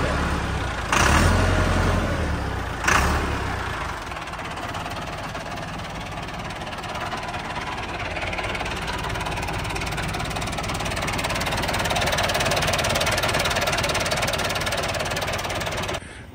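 A Massey Ferguson MF 385 4x4 tractor engine idles steadily at close range, a continuous low rumbling chug with two brief louder bumps near the start, then a constant even drone.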